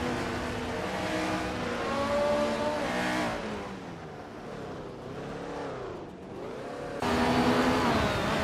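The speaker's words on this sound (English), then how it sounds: "Nbody Notes is driving a Shadow DN5B and is currently in 9th place" Engine of a 1976 Shadow DN5B Formula 1 car in a racing game at Grand Valley Speedway, a steady loud high-pitched whine with rising and falling revs and a sharp jump in pitch near the end, alone without talk.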